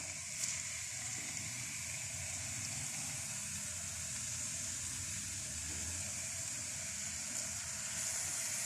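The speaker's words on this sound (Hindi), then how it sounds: "हम गाजर जो है ना वो शामिल कर देते हैं, और थोड़ा सा उसको पका लेते हैं इसी ऑयल में" Grated carrots frying in oil and desi ghee with cardamom give off a soft, steady sizzling hiss that runs evenly throughout, faint and close, with no talking over it.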